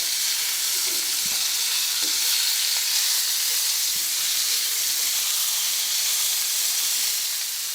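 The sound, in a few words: chicken frying in ghee in a pan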